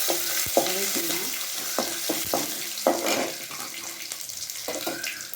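Dried red chillies, tamarind and garlic sauté in a pan for a pirandai thuvayal, giving a steady close sizzle broken by intermittent scraping stirs, with a faint trickle of water heard now and then.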